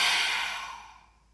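A single forceful exhale through the open mouth during a lion's breath yoga exercise, breathy and loud at the start and trailing off over about a second.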